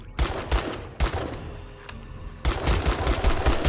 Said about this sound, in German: Wir werden alle Munition rausfeuern.